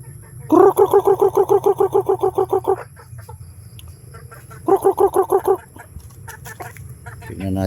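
A chicken clucks in a rapid, even burst of about a dozen calls, pauses, then clucks again in a shorter run, close by.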